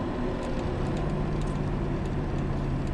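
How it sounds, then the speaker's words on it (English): A train rolls past in a steady, loud, unbroken rumble while a classic Malibu G-body car with a four-speed gearbox sits waiting at the crossing, with no talking. "Gotta wait for this train."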